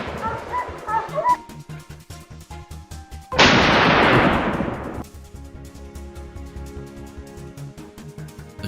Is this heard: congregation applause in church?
no